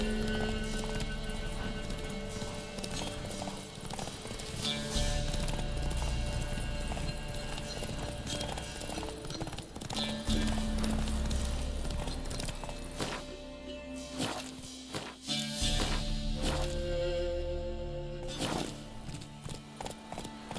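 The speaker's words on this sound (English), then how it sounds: "Whoa there, Roach" Horse hooves clip-clop in The Witcher 3 video game, with a steady walking rhythm, moderately close, alongside occasional snorts and whinnies, over a soft background of game ambience.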